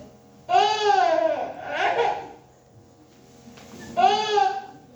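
Someone uses their voice to imitate a crying baby sister waking from sleep during a Hindi play. Two wavering, bleat-like wails come close and fairly loud, the first longer with a broken middle and the second shorter, with a quiet pause between them.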